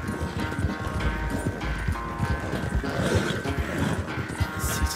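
A horse in the video game Red Dead Redemption 2 gallops at a quick, steady pace, hooves thudding in a rapid rhythm close by, with a faint background hum.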